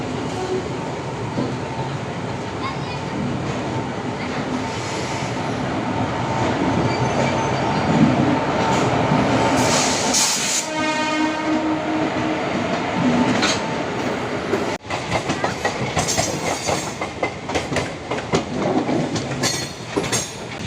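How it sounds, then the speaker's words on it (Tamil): The Pallavan Express pulls out of Chennai Egmore station, a loud steady rumble of wheels and carriages with a high wheel squeal midway, then rhythmic clickety-clack as the train rolls on. "ஷார்ப்பாக 3:45 பார்த்தீங்கன்னா நம்ம பல்லவன் எக்ஸ்பிரஸ் சென்னை எக்மோர்லேருந்து டிபார்ட் ஆகிருக்கு"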